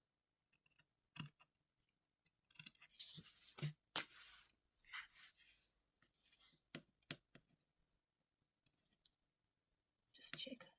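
Scissors snip into fabric toward a sewing line while a lined drawstring pouch is made from fabric scraps, giving a series of quiet, close, sharp cuts and clicks spread unevenly through the clip with soft handling noise between them.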